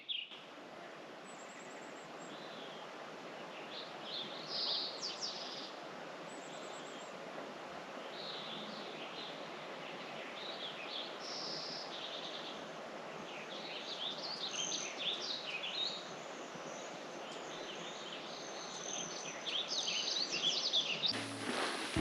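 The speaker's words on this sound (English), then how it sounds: "listening to the birds." Birds sing along a mountain trail in Rocky Mountain National Park, with scattered faint chirps and trills near and far over a broad, steady hiss of wind or rushing water.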